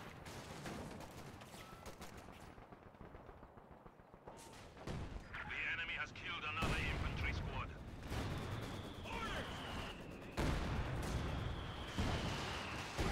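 Heavy battlefield fire in a Company of Heroes 2 four-versus-four match as a Stuka dive bomber attack comes in, with repeated booming impacts and crackling gunfire under a commentator's steady talk.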